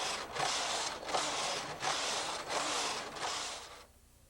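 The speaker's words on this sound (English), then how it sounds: "Advance our pattern card so that it will move and go on with our knitting." A punch card knitting machine's carriage makes repeated mechanical passes, a rattling, clicking whir in five rhythmic sweeps with brief pauses between them as the pattern card advances, then it stops. The sound is close and moderate in level.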